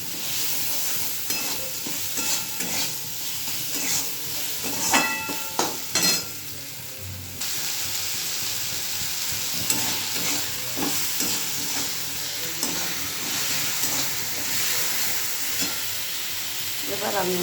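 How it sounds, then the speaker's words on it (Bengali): Pointed gourd and potato frying with onions in a pan, a steady oily sizzle with repeated spatula scrapes and stirring clatter, close and continuous, no talking. "আর একটুখানি ভাজা ভাজা করে নেবো।"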